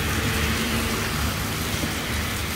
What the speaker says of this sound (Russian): на улицу не пойду в такой дождь